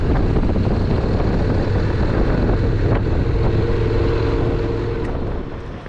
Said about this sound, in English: Can't hear me over the engine.